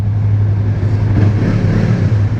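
A 2017 Yamaha MT-03 naked motorcycle with a custom aftermarket exhaust pipe accelerates, a loud, steady, rumbling engine drone heard close up from the rider's position throughout.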